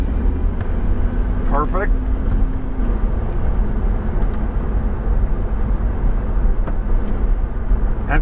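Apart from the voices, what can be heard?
Lamborghini Huracan accelerating on track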